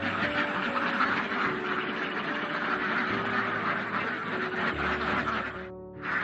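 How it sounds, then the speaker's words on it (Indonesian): Farm-raised ducks gathered at a feeding spot, quacking steadily throughout as they eat, a continuous dense chorus of many birds at moderate distance with no talking. "Ini bebek makan."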